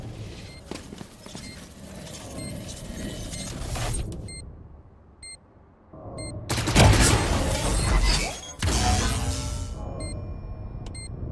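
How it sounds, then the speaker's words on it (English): A swarm grenade going off in Valorant, a dense burst of crackling, popping blasts that swells loudly, cuts away, then returns in heavy rolling waves over a busy match backdrop. "Swarm grenade out."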